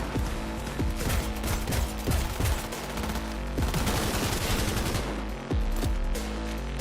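Sustained automatic gunfire in Cyberpunk 2077 runs loud and continuous over a game music bed, with repeated heavy bursts and a brief dip near the end.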